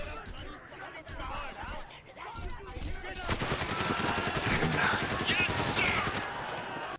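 Video game gunfire aimed into a crowd swells into a dense, loud stretch of rapid shots and crowd noise, with a voice talking and a chuckle heard over it.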